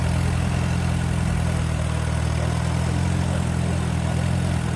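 An Allis Chalmers tractor engine idles steadily nearby with a loud, even, low rumble that holds throughout, with no talking.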